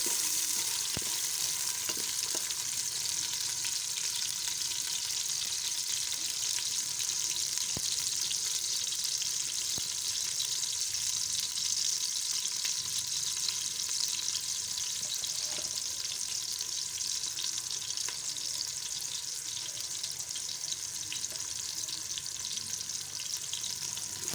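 Chopped onions, two medium-sized, frying in a pan as the base for daal chawal, giving a steady, dense sizzle that holds evenly throughout, with occasional faint stirring clicks and no talking.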